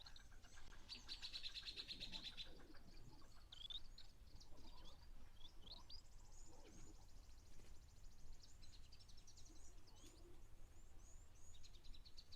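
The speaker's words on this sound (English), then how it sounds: "I do love these beautiful little firefinches here in Mentore over in Kenya." Small firefinches chirp at a waterhole in Kenya, with faint, high trills and scattered short tweets over a steady outdoor hiss, distant and quiet with no talking.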